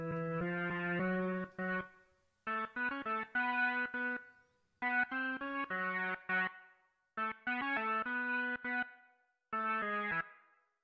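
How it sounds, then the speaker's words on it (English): Distorted electric instrument through a Dirty 70s distortion effect in Cubase, playing bursts of chords and notes with gritty harmonics, broken by short gaps of silence, loud and close with no talk. "Now this Dirty 70s is one we had originally. What I want is distortion."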